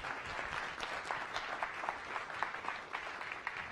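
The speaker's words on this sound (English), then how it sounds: "Let's give her a round of applause again." A small audience claps at a Science Cafe talk on drug addiction, a faint, somewhat distant patter of hands that stays even for a few seconds.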